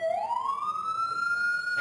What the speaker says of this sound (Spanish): Mira, llegó la ambulancia.